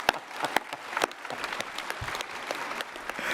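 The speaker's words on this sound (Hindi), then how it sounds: "जोरदार ताली बजाओ।" Audience applause in an indoor gathering at a yoga and Ayurveda talk, a dense patter of many hands clapping, steady and fairly close, with no voices over it.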